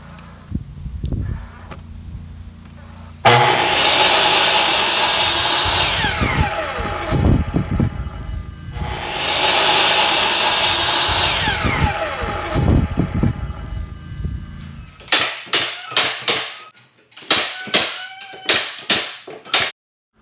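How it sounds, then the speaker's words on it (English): Wooden trim boards for a DIY accent wall are cut with a power saw in two long, loud whining passes, then a quick series of sharp, evenly spaced nailing bangs follows near and alone. "measuring first, cutting the boards, and then nailing them in the correct spot"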